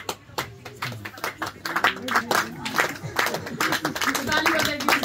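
Congregation clapping at a Christmas church gathering in Tikhedewa, Nepal: sharp, uneven hand claps that build into a fuller patter, with people talking and singing over them.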